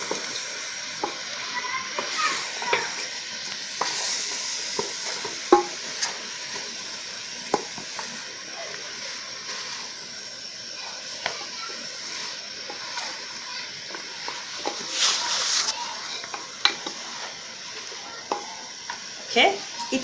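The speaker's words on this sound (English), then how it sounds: "now I will continue frying until all my tomatoes have softened" Soft continuous sizzle of tomatoes frying in a pot for chicken stew, with repeated scrapes and knocks of a spoon stirring, close and moderate.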